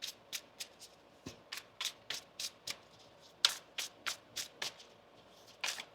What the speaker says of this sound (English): One more shuffle here, please, and thank you.